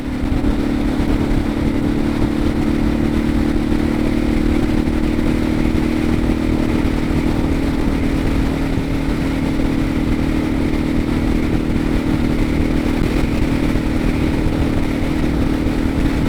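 Continuous Suzuki DR650 dual-sport motorcycle engine drone while riding, steady and loud, heavily mixed with roaring wind buffeting the mic throughout.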